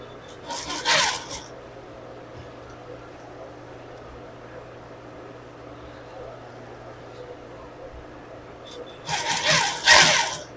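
A sewing machine runs in two short, loud bursts while it takes in the stitching on a trouser waistband from 31 to 27 inches. A quiet, steady hum fills the gap between the bursts.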